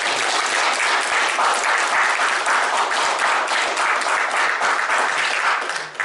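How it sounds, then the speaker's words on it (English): Sustained, full applause fills a Fayette County GOP meeting room for a retiring newspaper editor named Brinyark, a thick unbroken patter of many hands that holds steady before dropping off at the very end. "Let's give a round of applause for Brinyark."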